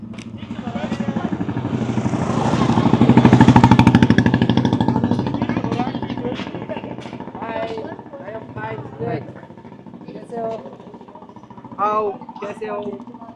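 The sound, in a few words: motorcycles passing in a narrow street in Rajasthan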